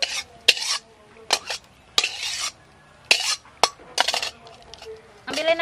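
Utensils scrape and clank against a pan as stir-fried mustard greens are scooped out, with sharp metallic knocks and scrapes in irregular bursts between short quiet gaps.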